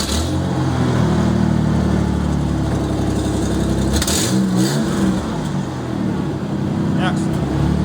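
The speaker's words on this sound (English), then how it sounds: "You want to start it? It's your truck. You start it." A pickup truck engine turning over and then revving and idling unevenly, close by, with a battery that may be weak. People talk over the engine noise throughout.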